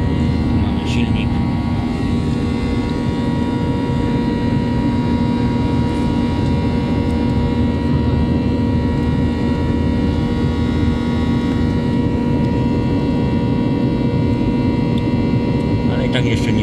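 Airliner engine droning steadily inside the passenger cabin during climb-out, a loud continuous roar with a fixed hum throughout, heard close and unbroken for the whole stretch.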